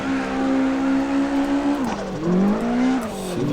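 A car engine drifting in CarX Drift Racing, a loud, steady high-pitched drone that holds, dips as the car slides through a turn, then climbs again, with no talk over it.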